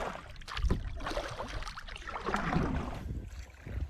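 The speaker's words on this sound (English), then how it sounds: "Time to start to paddle against Mother Nature." Canoe paddled against the wind on a creek, with paddle strokes and water splashing near the boat under steady, rumbling wind noise.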